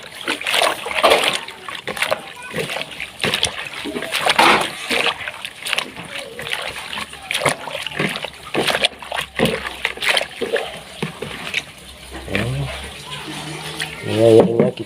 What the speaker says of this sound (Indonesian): Udah kita cuci sekali, kita cuci sekali lagi.